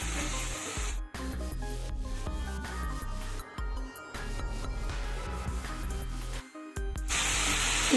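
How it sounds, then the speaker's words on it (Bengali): Spice paste fries steadily in a pan over medium-heat gas for a mung dal and pointed gourd dish, giving a continuous close sizzle and hiss broken by brief scraping stirs. "গ্যাসের হিট মিডিয়ামে রেখে এই মশলাটাকে ধীরে ধীরে কষিয়ে নিতে হবে।"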